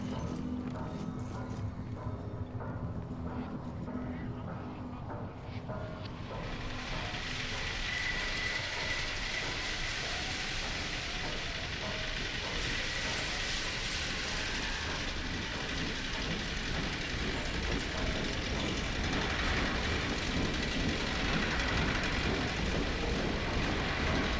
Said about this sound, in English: funny that the Razor trains are still on rails with sleepers